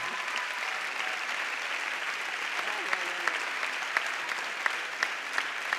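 An audience claps steadily at a murga anniversary gala, a dense, even wash of applause from a full hall, with a few louder individual claps near the front.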